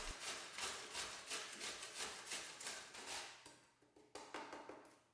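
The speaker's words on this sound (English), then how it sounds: "I'm gonna start by grating up my cucumber here." Cucumber being grated on a metal grater while preparing homemade shawarma, a rhythmic run of close, raspy scraping strokes that quickens into shorter, sharper strokes near the end, with no talking.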